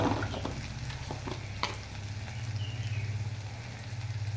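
Ginger-garlic paste and spices fry in a pan as they are stirred, giving a continuous soft sizzle with a few scraping clicks of the spoon near the start.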